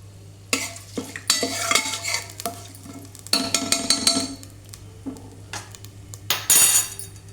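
Cloves and kasuri methi frying in a pan for a tomato bath recipe, with repeated close scraping stirs and light metallic clinks over a soft sizzle, no voices.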